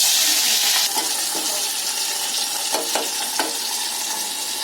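Onion, curry leaves and tomato fry in oil with cumin, giving a loud, steady sizzle broken by several stirring clatters toward the end, close by with no talk.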